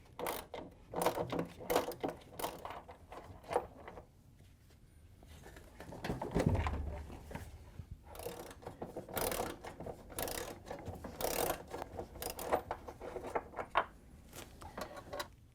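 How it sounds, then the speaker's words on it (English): Mechanical clanks, ratcheting and metallic clicks as shock absorbers are pulled from the tub of a Samsung washing machine, loud close work noises in irregular bursts with a brief low thump midway. "Now we can go take off the 2 shock absorbers in the back."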